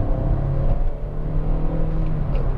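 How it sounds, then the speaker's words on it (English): A Honda Civic 1.8 i-VTEC hatchback engine drones with a steady, close rumble, holding a fairly even pitch throughout with no talk. "With vigour, the engine revs around really nicely."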